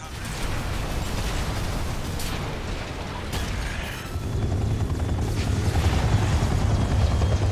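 Helicopter in the Armored Core 6 video game during a mission escort: a loud, continuous rotor and engine roar with mechanical rumble and occasional booming bursts, swelling louder in its second half.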